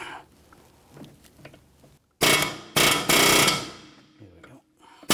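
A few sharp metallic taps of a hammer on a front CV axle of a 2004-2009 Audi A4 Quattro ring out in quick succession, loud and close, with quieter clinks and shuffling before and after.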